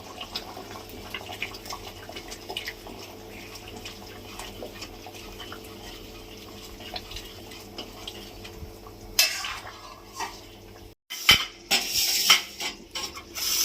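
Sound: adding ground pepper, cumin and green chili paste to curry

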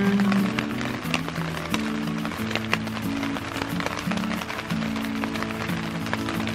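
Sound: rain falling at a fish camp

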